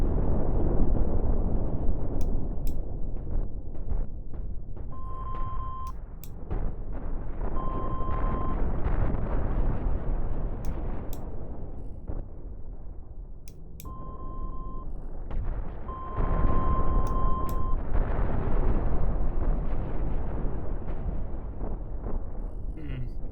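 Missiles launching and bursting in the space-combat game Cosmoteer: a continuous deep roar of rumbling blasts with short electronic beeps and tones on top, loud and sustained throughout.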